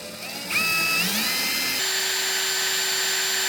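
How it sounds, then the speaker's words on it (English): A power drill bores a fairly large cable hole for a rear-view mirror camera, a loud rising whine that climbs in pitch during the first second, then holds a steady high drone to the end. "drill right in the middle here for the cable, and then screw it in"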